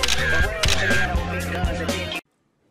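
Camera shutter clicks ring out over a bed of loud music, with a couple of sharp clicks standing out among the busy sound.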